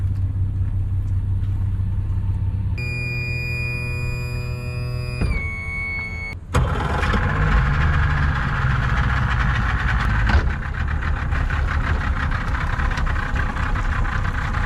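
A fully serviced, restored ex-government boat engine runs during a sea trial on the water: a steady low drone, then a higher tonal whine for a few seconds before it shifts to a louder, rougher roar.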